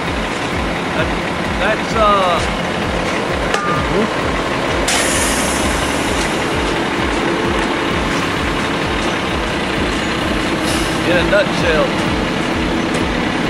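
A concrete truck's diesel engine runs during a footer pour at a cramped residential building site, a steady loud rumble with scraping and clanks on top and someone speaking briefly over it.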